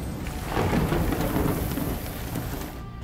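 Hail and rain pound down in a hailstorm in the video game Nightingale, building into a loud, dense roar with a thunder-like rumble that swells after a moment, then eases slightly. No one speaks.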